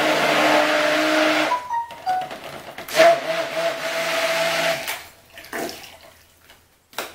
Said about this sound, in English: I do that just so the soap doesn't build up on my stick blender.